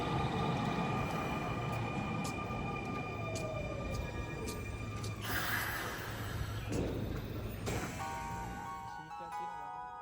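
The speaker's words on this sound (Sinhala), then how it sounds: "ඔන්න යාළුවෝ අපේ ට්‍රේන් එක ඇවිල්ලා නවත්තන්නයි හදන්නේ." A passenger train pulls in and slows toward a halt, with a steady rumble, a falling whine and scattered clanks; the sound is continuous, fairly close and gradually eases off.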